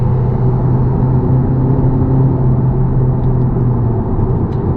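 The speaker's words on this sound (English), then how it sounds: "Probably need to downshift before before I floor it." A 2019 Mazda 3 hatchback with the 1.5 engine, in sports mode, pulls hard after a downshift, heard from inside the car as a loud, steady low engine drone and rumble.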